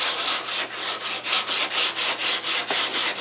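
Rhythmic hand sanding of a wooden guitar body with curved sandpaper, close and clear, about a dozen even back-and-forth strokes.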